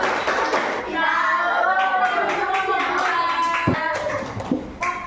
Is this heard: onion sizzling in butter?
no